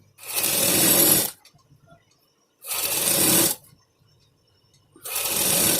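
Electric sewing machine stitching a sleeve onto a cotton frock-style kurti, running in three loud, steady bursts of about a second each, separated by quiet pauses.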